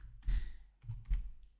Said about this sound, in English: You can either just start typing